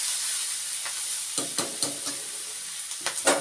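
Vegetables cooking in a pan as salt is stirred in, a steady frying hiss with several sharp scraping clinks of the spoon against the pan, close and clear.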